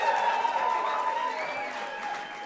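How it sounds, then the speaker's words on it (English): Festival audience at a folk songwriting competition applauds steadily for the performers, a dense wash of clapping that holds for a few seconds with a voice carrying faintly over it. "We'll start with a little applause."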